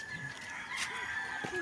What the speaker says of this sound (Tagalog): Mga manok na yun.